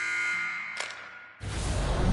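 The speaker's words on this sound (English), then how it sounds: "And with the buzzer, that puts a bow on the first 20 minutes of play." End-of-period buzzer in an NHL ice hockey video game: a tonal electronic drone with a brief bright click, then a loud burst of crowd-like broadband noise taking over.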